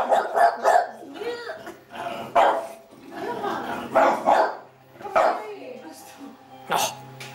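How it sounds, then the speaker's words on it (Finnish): A French bulldog barks and yips in repeated short bursts, sometimes whimpering, while a person keeps talking to it close by. "Osaatko sinä haukkua?"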